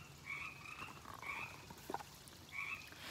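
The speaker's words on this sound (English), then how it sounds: "I'm right near my water feature and there are a lot of frogs." Frogs croak near a garden water feature in a few separate, buzzy calls spaced over a couple of seconds. The calls are moderately close but faint, over a low background hiss.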